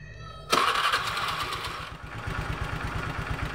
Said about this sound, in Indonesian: langsung saya hidupkan motornya dulu ya